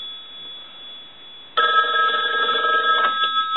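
The metallic bell of an old American wood wall telephone breaks in suddenly after a quiet stretch and rings continuously for roughly a second and a half, close and clear, then cuts off into low hiss.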